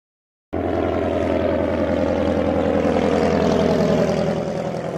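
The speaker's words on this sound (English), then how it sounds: "Biplane." A biplane's propeller engine drones steadily and loudly, a continuous buzzing roar with no voices.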